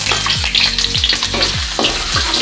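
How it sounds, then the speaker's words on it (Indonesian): Garlic dropped into hot oil for a home-style broccoli and egg stir-fry, a loud steady sizzle with repeated scraping stirs of a spatula, no voices. "Masukkan dulu bawang putih."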